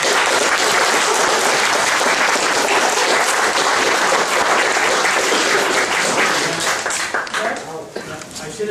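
A debate audience applauds loudly and steadily, a dense roar of many clapping hands that thins slightly toward the end as voices start to come through.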